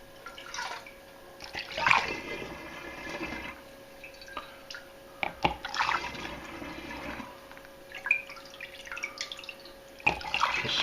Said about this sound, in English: So this is a transfer of the wine to the demijohn